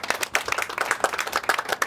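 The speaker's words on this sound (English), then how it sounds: "First of all, big applause." Audience applause after a workshop talk on ecosystem restoration at a summer camp, a short burst of scattered, fairly close hand claps from a modest group, uneven and lively, with a faint voice mixed in.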